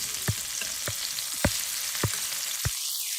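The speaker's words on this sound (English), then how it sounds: "we just want to put a nice little sear in them" Salmon fillets searing in a hot pan for a salmon pasta give a steady, close sizzle punctuated by five sharp pops spaced through the sizzle, with no talking.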